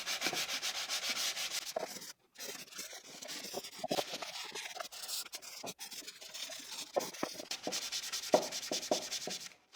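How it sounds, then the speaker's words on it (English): Close, repeated rubbing strokes of 220-grit sandpaper sanding wood by hand, a dry rhythmic scratching with a short pause partway through. "I'll also do some hand sanding with 220 grit sandpaper."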